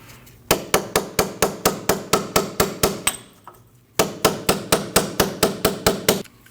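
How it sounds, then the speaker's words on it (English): A hammer drives a punch against the ABS sensor on the rear backing plate of a 2003-2008 Subaru Forester, making sharp metallic strikes in two steady, rapid runs separated by a brief pause. "Now you want to remove your ABS sensor from your backing plate. You can do that by taking a punch"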